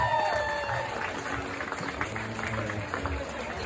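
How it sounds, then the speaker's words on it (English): A crowd at a pinup contest applauds a contestant, with steady, moderately faint clapping and a low background murmur. "Let's give a big old round of applause for Mama Bass!"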